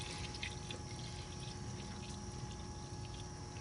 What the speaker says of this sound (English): Watch this pan get filled really quick.